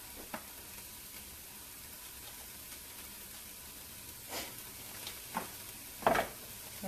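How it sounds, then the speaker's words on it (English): Onions frying in a pan, a soft steady sizzle with a few brief louder crackles and scrapes toward the end, no voices. "getting the onions getting cooked up in here"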